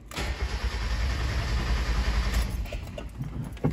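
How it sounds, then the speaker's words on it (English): A car engine cranks on its starter with the fuel shut off and the throttle held wide open during a relative compression test, giving a steady, loud, rhythmic churning drone throughout with no talk. "You're going to shut off fuel, keep your throttle body all the way open, and crank it over."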